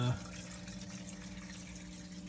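Water flows steadily through a Skimz chaeto reactor in an aquarium sump, a soft, constant trickle with a faint hum beneath, heard alone after a brief louder start.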